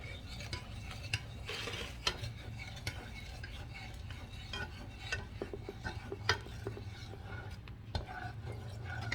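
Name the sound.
stirring shakoy sugar mixture in a pot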